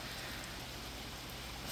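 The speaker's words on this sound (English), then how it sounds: "this kind of rain is great" Rain falls steadily at an off-grid homestead, a dense, even hiss of drops on surfaces that holds constant and fairly faint throughout, with no voices.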